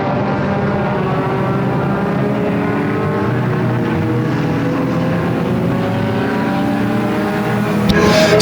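Race cars circle the track during a 100-lap Halloween Enduro at Flamboro Speedway, with several engines droning and overlapping at once. Their pitch rises and falls continuously as cars pass, holding a loud, dense roar throughout the stretch.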